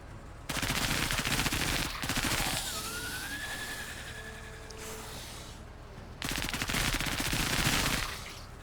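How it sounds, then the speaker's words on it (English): Assault rifle fire in the Menace video game comes in long, loud sustained automatic bursts, pausing between volleys with a whining tone in the gap before another heavy stretch of rapid shots. "So they're gonna get closer so Limp can take shots with his assault rifle now"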